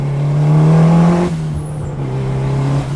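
A 440-horsepower Mitsubishi Eclipse GSX with an upgraded turbo and tune drones loudly from inside the car while driving. The engine holds a steady note, eases briefly as the load drops, then settles back into a lower steady hum.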